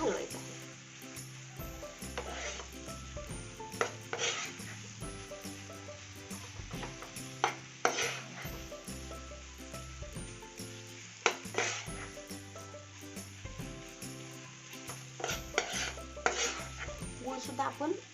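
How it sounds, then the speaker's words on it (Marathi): Jaggery melted in a pan for til halwa is stirred steadily, a spoon scraping and clinking against the metal with soft sizzling beneath, close and continuous with brief louder scrapes. "गुळ आता मेल्ट झालेला आहे आणि एकजीव करण्यासाठी आपण त्याला सतत हलवायचं आहे."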